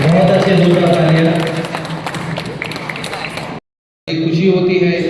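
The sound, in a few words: loud audience applause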